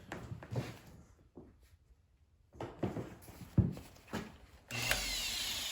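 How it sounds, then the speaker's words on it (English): An electric power sander runs on wet crack filler, kicking in with a steady, loud whir near the end after a few scattered handling knocks and bumps. "So I'll plug my sander in."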